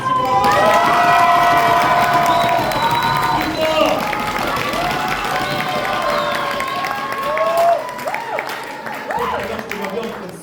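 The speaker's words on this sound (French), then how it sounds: "il faut tous les applaudir" Audience at a cosplay contest cheering, shouting and applauding loudly, a dense crowd roar with high excited voices that swells and dips over several seconds, an announcer's voice also heard.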